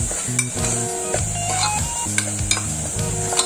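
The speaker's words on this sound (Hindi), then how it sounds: "अजून थोडंसं आपण त्याला छान परतून घेऊयात" Masala sizzling and being stirred in oil in a pan while cooking a white bean (ghevda) curry, a steady close frying hiss with repeated scraping stir strokes and light clinks of the utensil.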